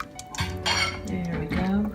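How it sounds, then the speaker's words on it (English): A spoon whisks gravy made with cream inside a metal Instant Pot for pork tenderloin, producing close clinks and scrapes against the pot over about two seconds, with a faint ringing tone as the metal is struck. "Let me grab my spoon here and go ahead and whisk it up."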